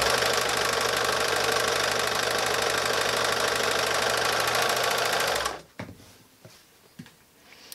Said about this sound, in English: when I sew, you can see I'm turning the fabric to match that curve